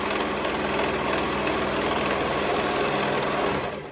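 A serger stitching around the curve of a fabric headband, a continuous close mechanical whir at steady speed that runs throughout and slows at the very end.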